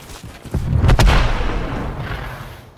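A frag grenade goes off in Call of Duty Modern Warfare 3 with one loud, close, booming blast. A deep rumble follows and slowly fades. No one speaks.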